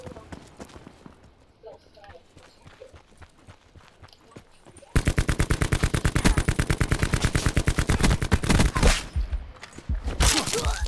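Video game gunfire, with scattered shots at first, then a loud, sustained stretch of rapid automatic fire from about five seconds on, mixed with footstep-like clatter.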